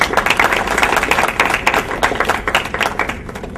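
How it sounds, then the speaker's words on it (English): An audience at a spiritual discourse gathering claps to pay respects, a dense, continuous patter of many hands, fairly loud and close, with no talk. "by giving a clap, we will give them our respects"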